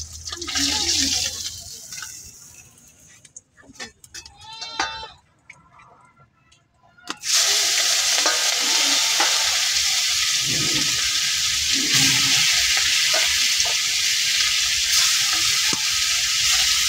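Fish frying in a pan sizzles in a home kitchen, with a few quieter clinks and handling sounds early on before a loud, steady sizzle takes over and continues to the end.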